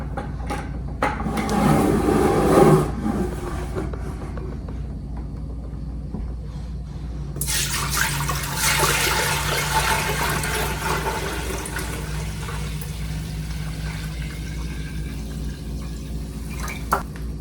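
Tapped maple sap is poured from a bucket into a large saucepan, a steady splashing, gurgling stream that starts midway, runs on continuously, and follows some quieter handling noises.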